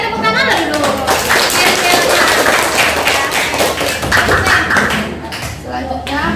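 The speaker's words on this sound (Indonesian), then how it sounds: "Iya, tepuk tangan dulu" Clapping from a school class audience after a student group's presentation introduction, a dense patter of hands that runs on for several seconds, with voices mixed in.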